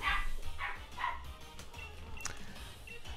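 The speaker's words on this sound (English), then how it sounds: "My dogs are being excessively loud today." Several dogs barking indoors, three quick yapping barks close together at the start followed by fainter whimpers and yips, moderately distant and not very loud.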